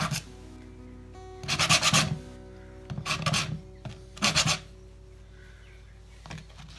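Sapele and maple wood segments sanded by hand to remove fuzz: three short rasping rub strokes of the sandpaper, close and moderately loud, over a steady low machine hum.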